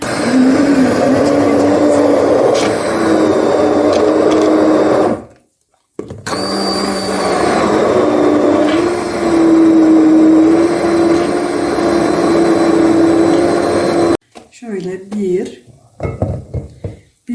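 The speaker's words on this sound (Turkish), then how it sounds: "Şimdi bunu güzel bir blenderdan geçirip geliyorum." A loud blender whirs steadily through a potato mixture for several seconds, cuts out briefly, then runs again before stopping, with clattering and brief pulses near the end.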